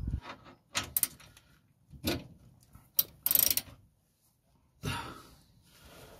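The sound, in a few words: ratchet turning tight bolts on Transit camper van spring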